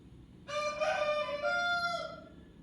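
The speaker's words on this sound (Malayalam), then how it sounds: "എൻ്റെ കോഴിയുടെ സൗണ്ടും കൂടി കേൾക്കാം എൻ്റെ സൗണ്ടിന് പുറമെ" A single rooster crows nearby, loud and clear, one full cock-a-doodle-doo lasting about a second and a half over faint background noise.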